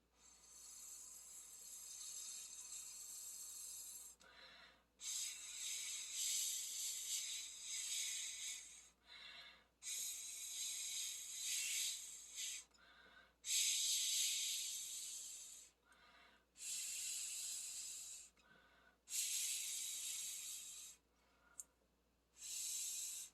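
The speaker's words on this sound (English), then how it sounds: "you're going to take your straw and you're just going to blow into it gently" Gentle breaths blown through a straw onto wet gel nail polish come as a series of soft, airy hisses in bursts of a few seconds, separated by short pauses, close and fairly quiet, with no talking.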